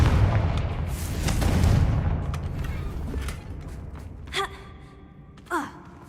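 A Confringo fire spell in Hogwarts Legacy goes off with a loud fiery burst and rumble, followed by two sharper magical impacts that ring out afterward.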